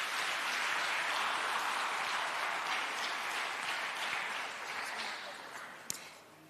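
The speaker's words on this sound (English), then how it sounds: "let's give our panel a warm round of applause." An audience at an investment summit applauds a panel, a dense, steady wash of clapping that gradually tapers off, with a single sharp knock near the end.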